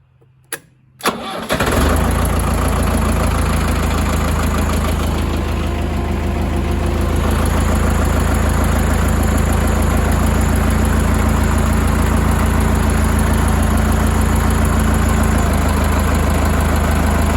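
A Ford 6640 tractor's large diesel engine cranks and catches after a short silence, then settles into a steady, loud, rumbling idle that runs on without pause.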